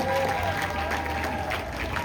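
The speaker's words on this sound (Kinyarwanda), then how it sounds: "Amashyi menshi cyane." An audience at a wedding celebration claps steadily, a moderate wash of applause with a voice speaking over it throughout.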